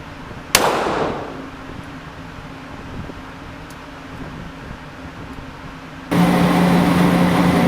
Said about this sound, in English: fired the last 2 rounds single action